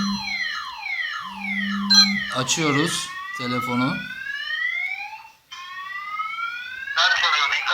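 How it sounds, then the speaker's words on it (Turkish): A car alarm wails with rising and falling electronic siren sweeps and warbling tones, loud and close, while a person briefly speaks. "Arabamızda siren çalıyor."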